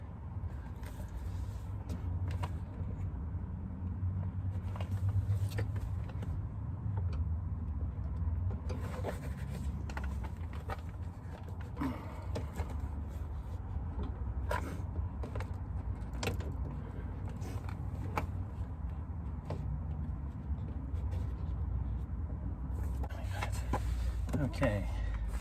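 An interior door panel on a Jaguar XJR 308 is refitted, with repeated plastic clicks, knocks and rubbing scrapes scattered over a low steady hum, close up, while someone speaks intermittently.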